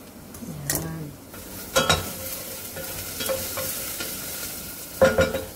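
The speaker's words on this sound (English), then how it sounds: "Simmer lang naman natin siya." Meatballs in sauce simmering in a pan, a steady low bubbling sizzle punctuated by several sharp clinks and scrapes of a utensil against the pan, close and moderately loud with no talking.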